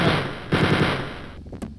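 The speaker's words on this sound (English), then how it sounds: "And start shooting" Rapid bursts of machine-gun fire from the Wolfenstein 3D video game, loud and close, with a short pause before a final sharp shot near the end.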